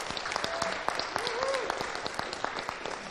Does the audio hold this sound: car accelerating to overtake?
no